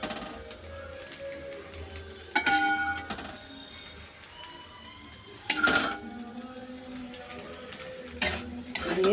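Vegetables with egg bhujia, beans, capsicum, potato and onion, stirred in a frying pan, giving a soft scraping stir under faint sizzling with three loud clanks of the spatula against the pan.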